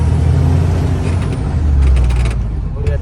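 A truck on a highway journey from Dhamangaon toward Gujarat, its engine rumbling loud and close throughout, with a hissing air-brake release near the end.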